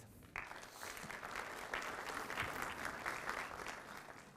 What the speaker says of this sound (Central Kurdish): چەپڵەیەک بۆ خۆتان